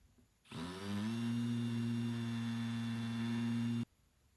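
A steady power drill whirs for about three seconds while drilling pilot holes into wood, starting abruptly and stopping cleanly, loud and close against a quiet background.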